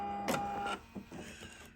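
A sewing machine runs a couple of short back stitches while finishing a fabric mermaid tail quilt, giving a brief mechanical whir, a pause, then a few quieter stitching bursts, close by with no talking.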